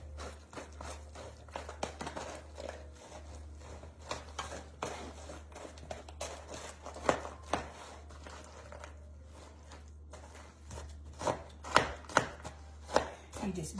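Frozen O'Brien potatoes being stirred and broken apart in a bowl for a ham and cheese casserole, giving irregular close scraping and crunchy thuds, busier and louder toward the end, with a low steady hum underneath and no talking.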